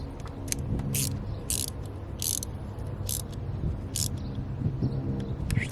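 A hand ratchet snugs small bolts of an EQT coil grounding kit on an engine, giving repeated short bursts of rapid clicking close by, spaced about a second apart, over low background hum.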